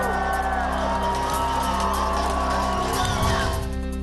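Dense crowd at a Pune street competition finale, a continuous roar of cheering, whoops and shouts with whistles and clapping, loud and sustained throughout.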